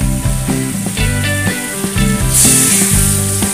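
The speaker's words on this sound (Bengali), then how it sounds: "এরপরে যে গরম জলটা রয়েছে এটা আমি অ্যাড করে" Hot water poured into fried chicken masala in a pan, a loud steady sizzle and hiss rising near the end, close up, over a background of music.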